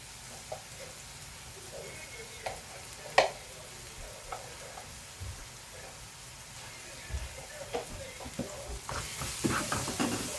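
Egg kothu parotta being stirred and mixed with chilli powder, coriander powder and garam masala in a pan: a low continuous sizzle with scattered spatula knocks and scrapes, one sharper clank, and a hissier burst near the end.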